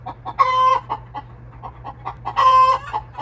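Chickens cluck close by in short bursts, with two louder squawking calls standing out over a quiet background hum.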